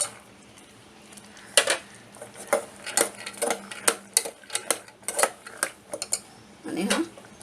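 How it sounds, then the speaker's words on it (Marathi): Peanuts poured into a pan of coconut for a fasting peanut curry, with sharp clinks and rattles of a spoon against the pan, irregular and moderately close under soft background noise. "आणि आता शेंगदाणे टाकते आतमध्ये"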